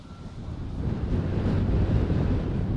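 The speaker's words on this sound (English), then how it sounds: "The headwind is a little more dramatic." Headwind buffets a microphone outdoors with a low, rumbling, continuous roar that builds slightly over a few seconds. No one speaks.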